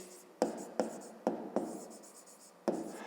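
Handwriting on paper for a fifth-grade maths exercise, six quick scratchy strokes in an irregular rhythm, close and quiet, with no talk.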